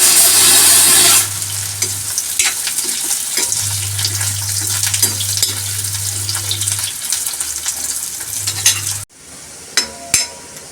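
Bitter gourd (karela) cooking in a pan on low heat for a chana dal sabzi, giving a steady close sizzle with occasional stirring scrapes that stops abruptly near the end, leaving a few faint clicks.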